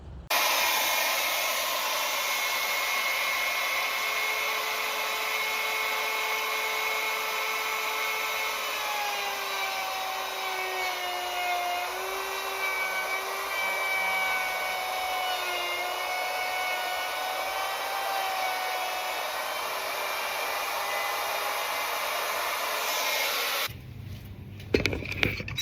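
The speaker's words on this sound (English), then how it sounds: "So now I'm going to go ahead and start some routering." A router cuts wood for a pontoon boat console, a loud continuous high whine with shifting pitch as the bit bites, running steadily for over twenty seconds before spinning down.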